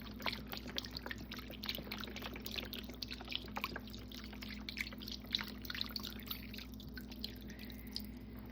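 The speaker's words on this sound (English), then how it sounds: "add 1 box of chicken broth" Chicken broth from a 32-ounce low-sodium box poured into a slow cooker over the other ingredients, a faint steady trickle with small splashes and drips, alone and quiet.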